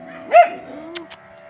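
A pet dog that has been bitten by a snake lets out a single short, high yelp close by, followed by a faint trailing whimper.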